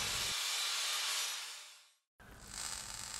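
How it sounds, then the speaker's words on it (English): An angle grinder strips factory paint from car parts on a 90s classic Subaru Impreza, a loud steady hissing whine that winds down and cuts out briefly, then starts up again at full speed. "Need to get all this factory paint off with the grinder because you can't weld to paint."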